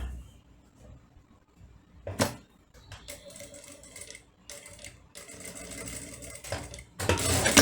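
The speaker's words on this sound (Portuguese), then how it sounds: "Vou fazer uma costura" A sewing machine stitches a seam on fabric while making a bag with the Pudim de Pano technique, running in several bursts with short pauses between them and ending in a louder final run. No one speaks.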